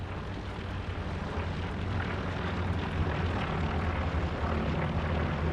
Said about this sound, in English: JWT recon plane going over should catch both Shermans on that H line